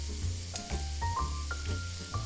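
Cajun-style seasoned scallops sear in a hot pan with a steady, close sizzle, broken by a few brief clinks and shuffles as they are loosened and flipped.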